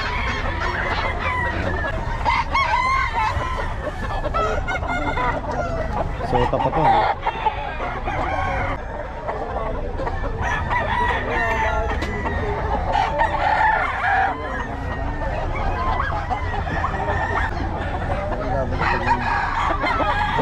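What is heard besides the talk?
chickens and roosters crowing at a poultry seller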